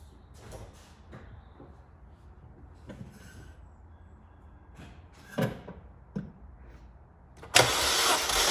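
A Mini Cooper S R56 engine turning over on the starter during a compression test, heard as a few faint tool and handling sounds, then a loud, steady whirring crank starting near the end.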